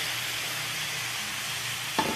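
Black pepper and vegetables stir-frying in a home-cooking pan, a steady, fairly loud sizzle and hiss throughout, with a brief clink of a utensil near the end.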